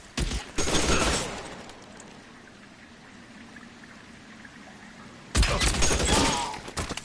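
Gunfire rattles in an L.A. Noire shootout, two loud bursts of rapid shots separated by several seconds of quieter, muffled background noise.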